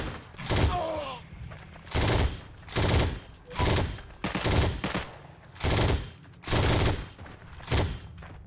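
Burst gunfire in the online shooter Heroes & Generals: about eight evenly spaced rapid-fire bursts, each a loud, dense rattle of shots lasting roughly half a second, repeating in a steady rhythm.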